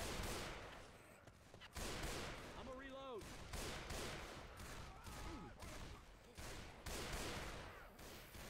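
Dense gunfire from The Elder Scrolls game rattles loudly and almost continuously, with short gaps and scattered sharper bursts throughout.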